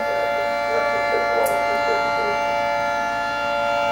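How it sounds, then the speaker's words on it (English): Tornado warning sirens wail steadily in long sustained tones, continuous throughout, with faint background noise and no speech. "they got the sirens going off in Valley too"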